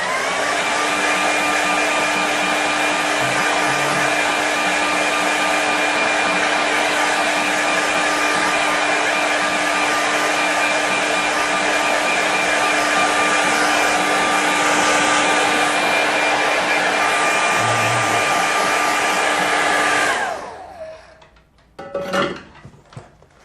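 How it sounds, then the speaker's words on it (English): A hairdryer blows on a watercolour painting for about twenty seconds, a loud, steady whirring drone with a constant whine, then switches off and is followed by a few light clicks and knocks. "so quickly get out the hairdryer"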